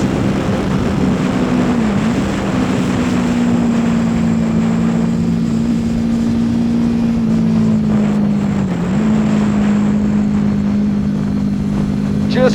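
An old Honda VFR800 motorcycle cruises at half throttle on the Nürburgring Nordschleife, its engine a steady, close droning hum with slight pitch dips as revs shift, continuous under wind noise.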